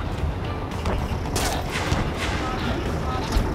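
Gunfire crackles continuously amid combat in Ace Combat 7, a loud, dense wash of shots and distant booms under battle noise, with radio chatter running over it.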